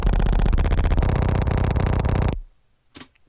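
Wave-shaped crunchy kick in a loud, distorted glitch texture, stuttering and saturated for about two seconds before dropping to near silence, followed by one short isolated burst.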